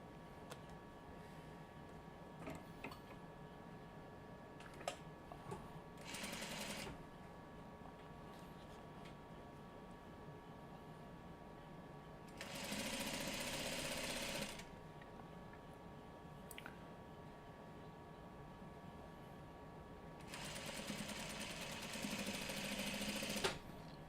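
A sewing machine stitches a seam on a Farmer's Wife quilt block in three separate bursts of fast mechanical whirring, with quiet handling pauses in between, close and alone.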